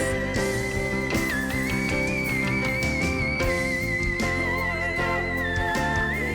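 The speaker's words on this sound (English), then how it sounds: "Is she gonna hit the whistle register too?" A female singer soars into the whistle register over a pop ballad backing, her very high sustained note sliding and wavering above the accompaniment of music throughout.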